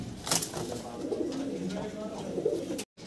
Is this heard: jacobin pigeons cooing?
yes